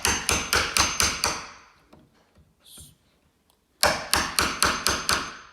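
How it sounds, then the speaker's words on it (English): A chisel paring wood stock for a door installation, heard as two quick runs of about six sharp, evenly spaced strikes, close and loud, with a short quiet pause between them. "I'm using the chisel to remove a little bit of stock at a time, like this."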